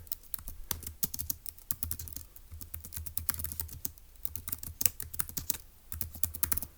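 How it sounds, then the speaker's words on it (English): Close typing on a computer keyboard, quick irregular keystroke clicks in steady bursts with short pauses, heard alone without talk. "So I'm going to type that up."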